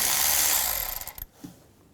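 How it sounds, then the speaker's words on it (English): A 10mm socket ratchet loosens a nut on the transmission dipstick tube bracket of a 2002-2009 Chevrolet Trailblazer. A quick run of clicking pawl strokes sounds close, then stops, and one faint knock follows. "Use a 10mm socket, and behind here there's a nut that holds the bracket for the transmission dipstick tube. Take that nut off"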